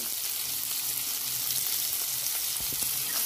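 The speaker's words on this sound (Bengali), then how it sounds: "পেঁয়াজ কুচিগুলো দিয়ে দেবো, ভালো করে নেড়ে চেড়ে নেবো।" Chopped onions and green chilies sizzling in hot oil in a pan, a steady bright frying hiss throughout with a few soft scrapes of stirring near the end, close up and no voices.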